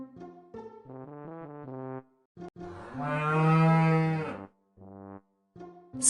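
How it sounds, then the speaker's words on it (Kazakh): A cow gives one long, low, drawn-out moo, set between shorter tonal sounds, heard clearly against silence. "Сиыр."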